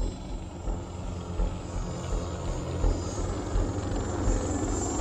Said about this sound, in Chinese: 救援飞机来了